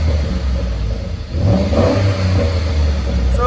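Ford F-150 pickup with a 5.0L Coyote V8 and a loud aftermarket exhaust, a steady deep engine rumble swelling into a rev midway, close and loud with no talk.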